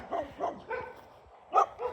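A dog on a Central Texas homestead barks in a quick series of short, sharp woofs, with a brief pause before a louder final bark, fairly close by.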